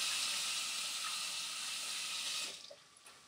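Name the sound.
running water from a tap, washing hands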